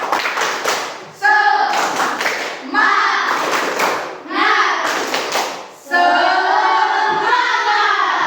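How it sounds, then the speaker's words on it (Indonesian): A classroom group claps for presenting classmates at a real teaching session, with bursts of rhythmic hand claps and taps mixed with children's chanting voices, loud and close. "Tepuk tangan dulu untuk mereka."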